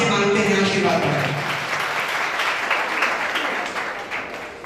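Audience applause at an award ceremony, the 2021 Astitva National Icon Award: a full, sustained round of clapping from a crowd, loud at first and slowly fading, with a voice audible near the start.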